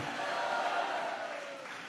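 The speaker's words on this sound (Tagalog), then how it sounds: "Palakpakan natin ng malakas na palakpak ang ating mahal na Panginoon" A church congregation at a Sunday general worship service in Marilao, Bulacan, applauds and cheers. The crowd noise is dense and continuous and a little distant.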